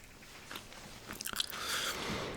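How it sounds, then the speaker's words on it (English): Close-up gum chewing with wet lip smacks, heard as soft irregular clicks and crunchy bites over a faint hiss, with no talking. "smacking my lips when I'm chewing gum"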